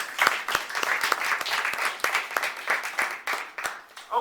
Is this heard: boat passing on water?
no